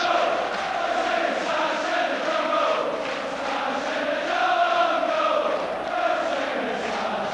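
A large football stadium crowd of Rangers and Aberdeen supporters at the end of the match, a steady broad roar and murmur of many voices as fans make their way out, continuous and fairly loud throughout.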